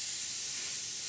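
An airbrush sprays paint onto a model in a short, steady hiss of air with no pauses, close and fairly even in loudness, with no voices.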